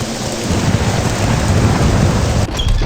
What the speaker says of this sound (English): Storm's picking up.